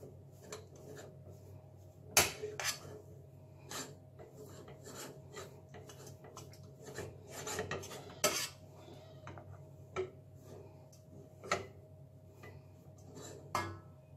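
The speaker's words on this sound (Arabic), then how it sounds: "غادي نطفي عليها النار وغادي نبقى نحرك فيها حتى تجمع وتبرد ليا شويه" Semolina and milk dough being stirred in a pot with the heat off as it firms up, giving soft rubbing and scraping under a low steady hum, with a few sharp metallic knocks of the spoon against the pot.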